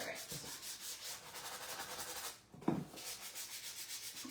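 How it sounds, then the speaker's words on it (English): Sandpaper rubs rhythmically back and forth over a surface in quick repeated strokes, quiet and close, with a brief pause and a small knock midway. "we are just going to give it a good sand"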